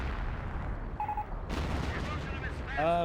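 An artillery barrage in Company of Heroes, a real-time strategy game: a constant roar of battle noise, then a sharp explosive blast midway, followed by distant rumbling and a brief whistling tone near the end.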